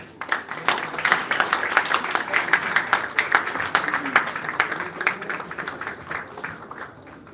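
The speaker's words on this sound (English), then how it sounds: "Please give a round of applause." An audience at an Indian film festival award ceremony breaks into a sustained round of moderately loud, dense clapping that slowly tapers off.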